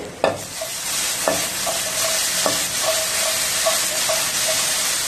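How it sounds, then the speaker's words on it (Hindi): Afghani omelette mixture sizzles in a pan after being sautéed and covered, and a utensil stirs it. Steady close frying hiss runs throughout, with a few sharp scrapes and taps spaced about a second apart. "इसको अब चेक करेंगे, हम थोड़ा हिलाएंगे।"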